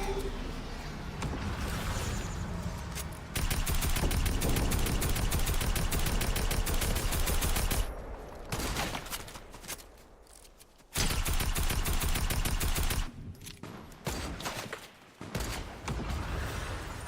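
Gunfire in the video game Fortnite, rapid bursts of automatic shots that come in long stretches and break off for short pauses, loud and close with game effects mixed in.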